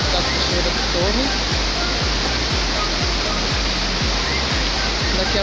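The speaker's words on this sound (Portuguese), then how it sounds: "Cachoeira maravilhosa." Cachoeira da Torre, a waterfall near Cubatão in Brazil, roars as a loud, dense, unbroken rush of falling water close by, with regular low thumps running through it.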